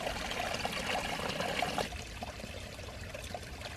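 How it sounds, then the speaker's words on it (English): Small waterfall of rainwater running through a neighbour's land on an off-grid property, a steady rushing trickle close by, louder for the first two seconds, then softer and continuous. "we do have this lovely almost waterfall. So this is our neighbour's land here, and this is running through."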